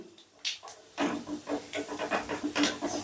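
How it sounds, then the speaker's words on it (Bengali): Black cumin seeds and a torn dried red chilli are stirred in hot oil over low heat. A soft, steady sizzle carries faint scraping strokes from the spoon in a quiet kitchen. "ফোড়নটাকে একদম লো আজে হালকা করে একটু নাড়াচাড়া করে নিচ্ছি"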